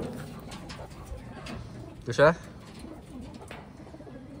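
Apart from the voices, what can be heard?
pigeons cooing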